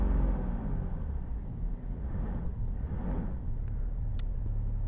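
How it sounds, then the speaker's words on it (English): A car engine, fitted with a common fuel rail, idles steadily with a low rumble and rises briefly as the throttle is pressed, heard alone without talk. "So let's just hit throttle a little bit."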